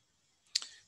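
A single computer mouse click, a short sharp tick near the middle of an otherwise quiet moment.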